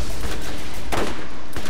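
Deployed turret fires rapid bursts of automatic gunfire in the video game Borderlands, loud and dense with overlapping shots and no talk.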